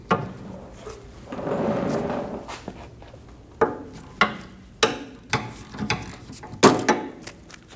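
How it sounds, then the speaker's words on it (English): A triple-square bit on a ratchet breaks loose the rear brake caliper bolts on a 2012-2022 Volkswagen Passat, with several sharp metallic clicks and knocks spaced through the latter half after a softer rustling stretch, close by and with no talk. "We're going to remove our 2 caliper bolts using a 14mm triple square."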